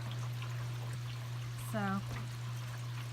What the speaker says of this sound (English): It just decided to come into the basement. That's where it's draining to.